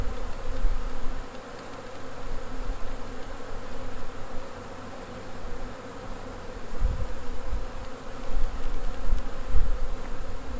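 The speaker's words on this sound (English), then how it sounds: "bees have figured out that this is their hive, and so they're more likely to be defensive" Newly installed package honeybees hum and buzz steadily around their hive, a dense continuous swarm drone rising and falling slightly in intensity, with occasional close bumps and rustles.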